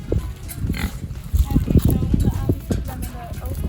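Pasture pigs grunting and snuffling close by, with scattered hoof thumps and rustling on the ground, and people talking over the animals throughout.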